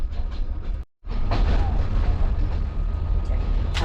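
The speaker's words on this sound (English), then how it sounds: "We're ready for a 10-hour train ride." Steady rumble and rattle of an overnight sleeper train running from Bulgaria to Turkey, heard from inside the carriage, continuous after a brief cut, with some faint talk in the background.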